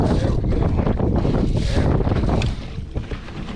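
Strong wind buffets the microphone on the Gulf coast, a loud continuous roar and rumble with gusts, easing a little toward the end, with water and boat sounds mixed in.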